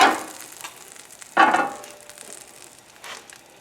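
Bacon in a non-stick pan sizzles softly up close, broken by two short louder bursts of scraping or stirring and no speech.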